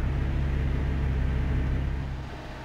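A loud, steady car engine from the video game DayZ drones with a low rumbling roar that eases off slightly toward the end.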